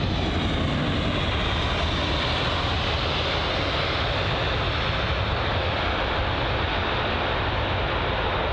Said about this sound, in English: that was the Air Canada 7879 Dreamliner from Toronto